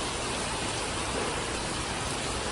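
Heavy monsoon rain falls in Sindhudurg district, around Malvan and Devgad, as a dense, continuous, even hiss of downpour with no voices or breaks.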